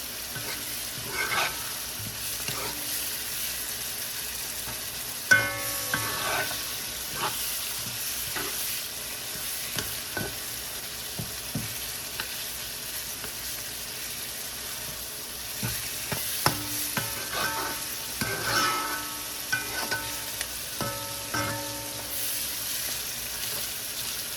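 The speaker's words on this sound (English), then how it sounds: "Now what I'm doing is just mashing the tomatoes" Tomatoes cooking in a pot are mashed and stirred, with scraping and soft squelching over a continuous sizzle, the utensil strokes coming in irregular bursts through the whole stretch.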